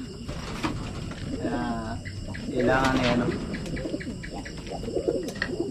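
Racing pigeons coo softly in the background while someone speaks briefly, with a few light chirps scattered through.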